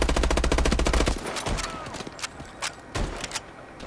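Rapid automatic gunfire in the Call of Duty Advanced Warfare campaign, a fast dense burst followed by scattered single shots and distant impacts, loud and close.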